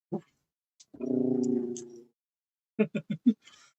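A dog gives a low, sustained growl lasting about a second, followed by a quick run of short, sharp huffs and whines, close and fairly quiet.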